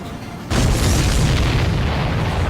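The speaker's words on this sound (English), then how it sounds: "Did you see that explosion?" A supply ship explodes in Ace Combat 7, a sudden loud boom that swells into a sustained, roaring rumble of fire and debris lasting over two seconds.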